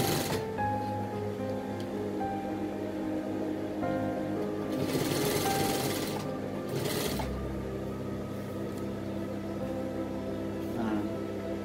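A sewing machine runs steadily while stitching the bottom hem of a women's blouse, a continuous close mechanical hum with short louder bursts partway through and no talking.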